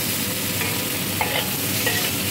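Mung beans and tomato being stirred in a hot pan: a dense continuous sizzle with occasional soft scrapes of the spoon, close and steady.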